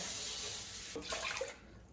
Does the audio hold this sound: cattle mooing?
no